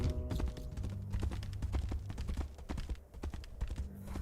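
Horse hooves clop in rapid, rhythmic beats in the video game Tainted Grail: Fall of Avalon, a close galloping patter over a low game soundtrack, with no talk.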